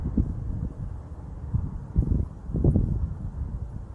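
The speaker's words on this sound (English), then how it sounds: "So the wind, it's 30 miles an hour. It's definitely blowing her around." Strong wind of about 30 mph buffets a DJI Avata drone, producing low, irregular rumbling gusts and microphone wind noise that swell and fade unevenly throughout.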